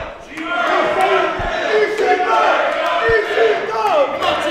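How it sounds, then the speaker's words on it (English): Fans at a live wrestling show roar and chant in a loud, surging wave, with a couple of thuds from the ring beneath the steady crowd noise. "Man, the crowd is hot right now."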